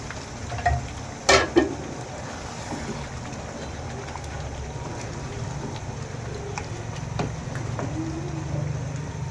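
Duck meat goes into a pan of fried spice paste with a few sharp clatters, then a steady soft sizzle and frying hiss continues, with faint stirring scrapes near the end.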